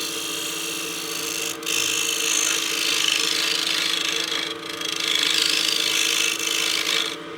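Skew chisel shaving a spinning wooden utility box on a woodturning lathe, a steady close rasping scrape with brief pauses and restarts as the tool lifts and returns.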